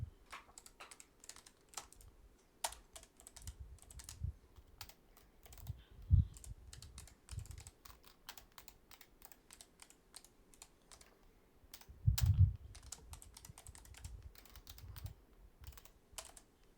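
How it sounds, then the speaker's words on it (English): Computer keyboard typing while writing a program in the Vim editor: close, quiet, irregular bursts of rapid key clicks with brief pauses and a few heavier thumps. "So now we are done typing our program"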